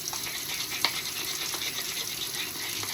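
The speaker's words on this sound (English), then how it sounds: "And just drop it in and stir it real fast." Royal icing for sugar cookies is stirred quickly in a bowl, giving a continuous soft, wet swishing hiss with a faint tap or click now and then.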